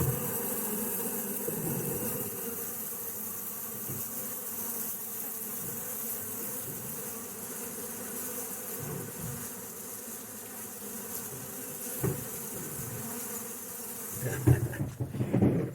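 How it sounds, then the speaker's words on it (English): A swarm of bees in a barn buzzes together in a steady, dense drone, fairly close, with a few louder passes and some handling bumps near the end. "there's quite a few bees up there, more than I anticipated"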